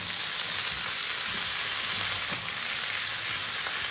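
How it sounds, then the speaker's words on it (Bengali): Mixed vegetables with medium tomatoes, salt and turmeric fry in a pan, a dense even sizzle with faint soft stirring knocks underneath, close and steady, no voices. "সবজিটাকে ভালো করে কষে নিতে হবে।"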